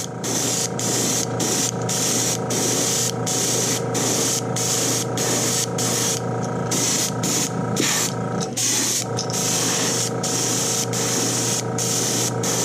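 An airbrush sprays pearl paint onto a metal shad fishing lure, a steady close hiss broken by rapid short on-off bursts of spraying throughout.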